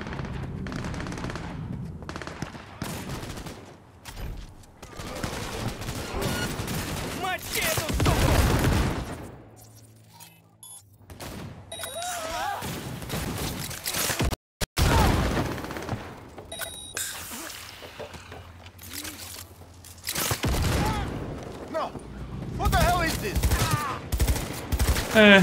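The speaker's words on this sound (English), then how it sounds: "I hear gunshots, that's where we are going." Bursts of rapid gunfire rattle through a busy, loud Cyberpunk 2077 game soundscape, with shots coming in clusters amid booming effects and occasional voices.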